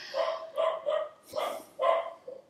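A dog barks about five times in an irregular series, fairly close and clear, with short pauses between the barks and no talking over them.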